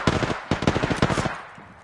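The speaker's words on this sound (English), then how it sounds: "Shots fired and they're hitting me." Rapid automatic gunfire from a video game rattles out in several quick close bursts, loud and alone, then fades out.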